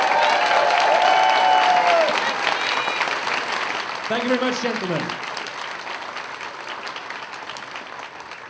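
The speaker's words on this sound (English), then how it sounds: "so we have a round of applause for Adam, please." A furry convention opening ceremony crowd gives a round of applause, thick clapping that is strongest at first and gradually thins, while someone speaks briefly over it partway through.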